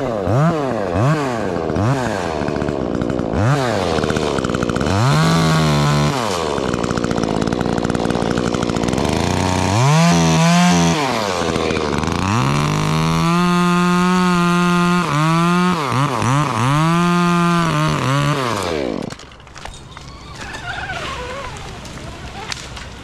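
A chainsaw cuts the top off a tree, loud and close, its engine revving up and down repeatedly under load in bursts, then dropping to a lower idle near the end.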